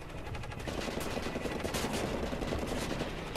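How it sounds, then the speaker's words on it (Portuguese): Rapid machine gun fire in the video game Wolfenstein: The New Order, a dense, continuous burst of shots loud and close for the whole stretch, with no voices. "E ainda mais com metralhadora"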